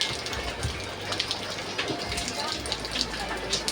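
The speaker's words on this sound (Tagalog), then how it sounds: "Lakas pala ng ulan." Steady heavy rain hisses across the whole clip, a dense broadband wash with scattered louder drops and a low rumble underneath.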